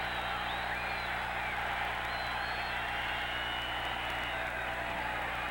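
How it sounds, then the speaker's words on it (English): Stadium crowd at a 1993 NFL game between the Oilers and Chargers, standing ahead of a record-setting field goal try: a steady, dense roar of many voices held at an even level throughout. "And the crowd's on its feet."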